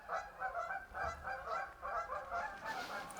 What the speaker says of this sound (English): These geese are ridiculous.